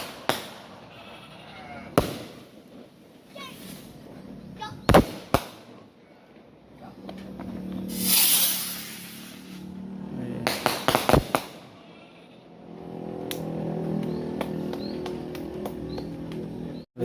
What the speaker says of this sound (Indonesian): Suara petasan.